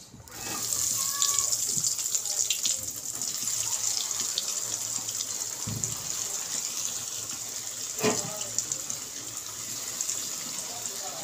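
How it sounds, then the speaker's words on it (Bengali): Paneer cutlets shallow frying in a pan over a medium gas flame give off a steady, close hiss of oil that runs unbroken through the whole stretch, with a couple of brief clinks partway through. "গ্যাসের আঁচটা মিডিয়ামে রেখে আস্তে আস্তে ভেজে নেব।"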